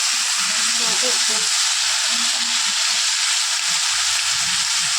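Ridge gourd, drumstick and tomato fry in a pan with a steady, close sizzling hiss, soft stirring clatter breaking through now and then.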